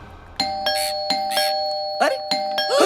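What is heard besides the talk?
doorbell ringing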